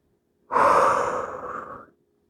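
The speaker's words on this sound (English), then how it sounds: "Deep inhales in the nose and exhales out the mouth." A single deep breath during a post-skiing yoga stretch, drawn in through the nose and let out through the mouth, close and clear as one long airy exhale of about a second and a half.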